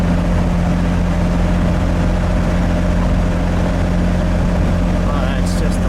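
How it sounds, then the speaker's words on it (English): A 1953 Chevrolet Corvette with a two-speed automatic drives along, its engine a steady loud drone with constant road and wind noise inside the cabin while people talk over it; no clear gear shift stands out. "Got a tall first gear. It gets about 40 miles an hour before it shifts."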